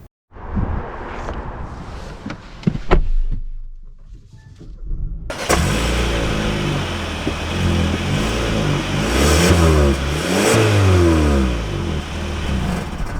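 A 2025 Kia K5 GT-Line sedan with its engine idling briefly, then pulling away hard with a loud, sustained rising engine note that climbs through several gear shifts.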